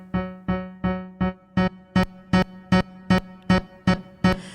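A single piano note struck repeatedly at a steady rhythm, each hit cut off abruptly with a sharp clicking crack at the release.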